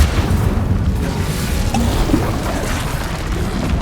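A fire spell, Incendio, cast in the video game Hogwarts Legacy, a dense low roaring rumble of flames that fills the whole moment loudly and steadily, with no voices over it.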